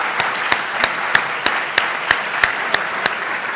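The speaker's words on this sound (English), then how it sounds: "I want to give a round of applause to" Sustained applause from a tech summit audience honoring a panel, a dense steady wash of clapping with sharper individual claps popping out at a fairly regular pace, fairly close and alone without talk.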